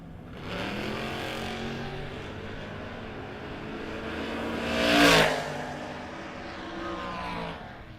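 Drag racing cars launching down a strip at a no-box 660 shootout, one of them a Plymouth Duster; a steady engine roar builds to a loud pass around the middle, then fades back to a sustained drone.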